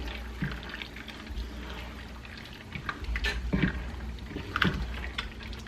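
Dry elbow macaroni, about one and a half cups, is tipped into a pot of chili and stirred in, making soft rattling, scraping and wet sloshing sounds that come in a few irregular bursts over a quiet background.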